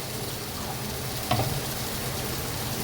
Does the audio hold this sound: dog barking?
no